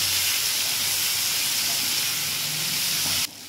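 Potatoes fry in hot oil with salt and turmeric, making a loud, steady, close-up hiss and sizzle that holds throughout and drops slightly at the very end. No one talks.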